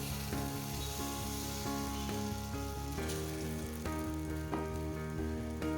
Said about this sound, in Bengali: দিয়ে আমি যে ডালটাকে পেস্ট করে নিয়েছি সেটা আমি তেলের মধ্যে দিয়ে দেবো।